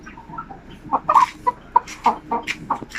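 A Sampi native chicken clucking close by in a quick series of short, bright clucks, fairly loud against a quiet background.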